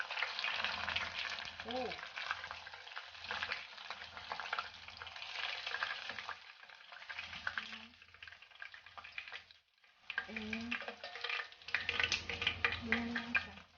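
Korean fried chicken pieces frying in hot oil during the double fry give a steady, dense sizzle close by, with a brief pause near the end and a short exclamation from a voice.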